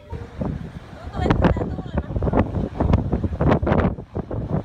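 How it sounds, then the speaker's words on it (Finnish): Gusty wind buffets the microphone in low rumbling rushes while people talk close by, outdoors at a roadside stop on a motorway road trip. "Tuuli tietenkin"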